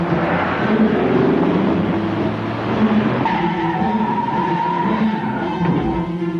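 Chrysler LeBaron GTS and BMW 528e dueling in performance tests, with engines roaring and tires skidding and squealing over several loud, continuous seconds, no voices.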